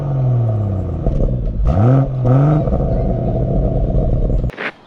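A BMW M140i engine rumbles loud and close, with rising and falling rev sweeps in the middle as the car accelerates, then cuts out abruptly near the end; speech may be faint underneath.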